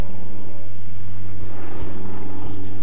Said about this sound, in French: Il y en a un avion qui passe pas très